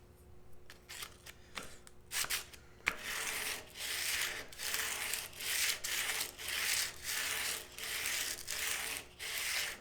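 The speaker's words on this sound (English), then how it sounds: "all the scraping and scratching I'm doing and the pressure I'm putting on it" Steel plane iron being scraped and sharpened by hand on sandpaper, with rhythmic back-and-forth rasping strokes in close, regular bursts after a few scattered scratches.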